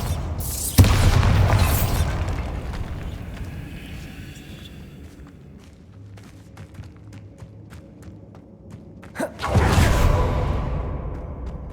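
Bombarda, the explosion spell in the Hogwarts Legacy video game, bursting with a heavy boom and whoosh that fades over several seconds, followed by a second loud blast near the end.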